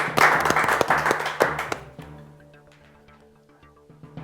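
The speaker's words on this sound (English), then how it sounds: "Let's give him a round of applause" A class applauds a pupil in a short burst of clapping that fades after about two seconds, leaving a soft tonal background.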